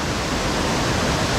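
The Duglai waterfall in Balaghat district pours down from just below, a dense steady roar of rushing, falling water, loud and close.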